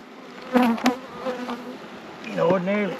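Honey bees buzz close by inside an open beehive, giving short, uneven swells of droning and whining wingbeats.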